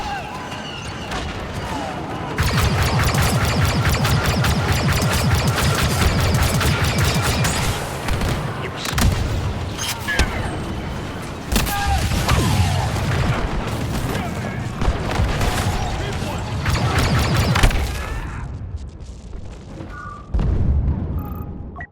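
Heavy blaster fire and booming grenade blasts in a Star Wars Battlefront II battle on Crait, dense and loud for long stretches, with voices shouting amid the combat.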